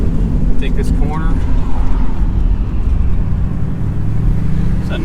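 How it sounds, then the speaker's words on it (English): A 1954 Ford Crestline takes a corner, its engine giving a steady low rumble close by while a voice talks over it. "It's a really smooth driving car."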